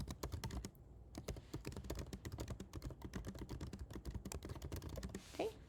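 Rapid, fairly quiet keystrokes on a computer keyboard as a short note is typed, with a steady clatter and a brief pause near the start.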